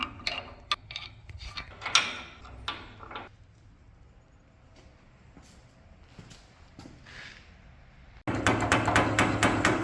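Metal strikes from a hammer on the chassis of a 1946 Chevy truck being custom built: a quick series of sharp, ringing clangs, then quieter workshop ambience, then a sudden loud, steady burst of mechanical noise.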